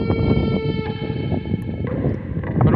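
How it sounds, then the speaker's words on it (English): Strong Arctic wind roars across a flat, open expanse in a dense, constant buffeting rush close to the microphone, with a faint steady whine running through it. "It's very windy."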